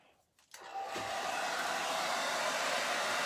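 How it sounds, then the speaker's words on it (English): A hair dryer switches on after a brief quiet moment and keeps blowing with a steady, loud, close-up whoosh. "hair dryer"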